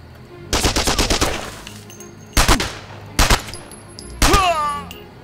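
Gunfire in the video game Operation Thunderstorm comes as loud, close bursts of rapid automatic shots, with one long burst followed by several short ones separated by brief pauses.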